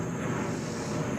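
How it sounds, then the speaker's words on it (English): An airplane flies overhead on its approach toward Richmond International Airport, heard as a steady, broad engine roar held at a constant level through the short stretch, with no talk. "oh gosh, look at this plane"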